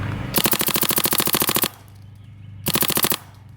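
Paintball marker firing rapid full-auto strings through a Virtue Spire 4 hopper set to 15, a loud dense burst of about 1.3 seconds, a short pause, then a second shorter burst, with no talk.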